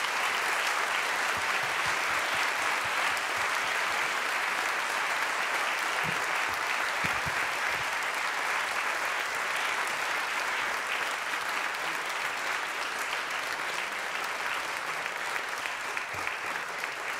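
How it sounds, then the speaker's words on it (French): A large audience applauds guests at a French success-themed conference, sustained dense clapping that fills the room evenly for over fifteen seconds without letting up. "Je voudrais que, s'il vous plaît, vous m'aidiez à remercier par vos applaudissements nos invités."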